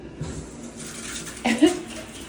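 A shower runs with strong water pressure, a steady broad hiss of spraying water that swells briefly near the end, with a faint voice under it.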